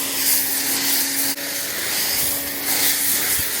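Green Star high-pH pre-wash is sprayed onto a car during a detailing job, producing a continuous close, loud hiss with a brief interruption partway through.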